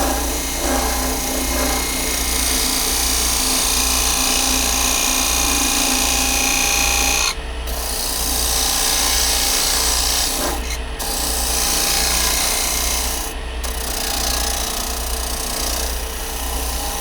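Parting tool cutting into olive ash on a wood lathe to set a tenon depth, a continuous loud scraping hiss over the low steady hum of the spinning lathe, with a few short breaks in the cut.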